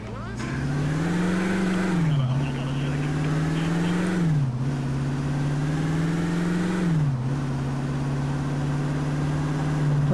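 Car engine in GTA IV droning steadily at a constant pitch, with brief dips around gear changes, loud and continuous throughout.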